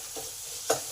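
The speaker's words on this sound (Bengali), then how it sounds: "পেঁয়াজটা যাতে তাড়াতাড়ি ভাজা হয়।" Chopped onions with salt frying in a pan on a gas stove while making suji bun dosa, a steady soft sizzle with one brief stir or scrape near the end.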